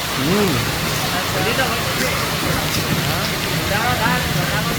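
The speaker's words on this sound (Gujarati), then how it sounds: "देखो કેટલો વરસાદ છે આજ તો" Steady, dense heavy rain pours down close by in Palanpur, a constant broadband hiss with spattering drops, while voices talk over it.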